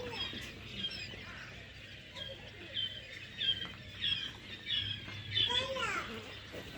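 Tiny four-day-old quail chicks in a brooder cheep in a busy overlapping chorus of thin, high peeps, steady and fairly close, with a faint low hum underneath.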